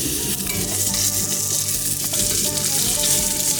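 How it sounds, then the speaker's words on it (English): Onions sizzle steadily in hot oil for Hungarian goulash, a loud, even frying hiss with light stirring and faint pan scrapes, with no voices. "Get that oil nice and hot. It's already hot, so let's put the onions in there"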